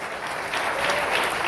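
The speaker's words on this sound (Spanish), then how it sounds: "Damos aplausos al Señor" A church congregation claps together in steady, dense applause that swells slightly toward the end, filling the space evenly with no speech over it.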